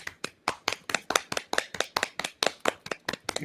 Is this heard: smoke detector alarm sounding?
no